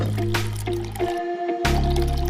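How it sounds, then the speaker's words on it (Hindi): Water drawn by a hand pump on a miniature DIY concrete bridge build: a few dripping, filling splashes with a ringing tonal hum underneath and a brief pause midway. "इसको कहते हैं हैंड पंप, यानी हाथ से पानी का निकालना।"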